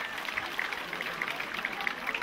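Concert audience applauding at a festive outdoor celebration in Akhty, a steady wash of many hands clapping at moderate distance with a faint voice running underneath.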